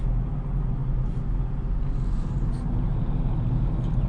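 A Dodge Charger R/T cruises along, its engine a steady low rumble blended with constant road and tire noise heard from inside the cabin, with no talking.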